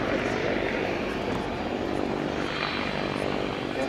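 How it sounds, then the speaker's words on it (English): A Westland Whirlwind helicopter at RAF Cosford Airshow 2018 drones with a loud, steady engine and rotor roar that holds constant throughout. "We've got a lovely engine though, Dan,"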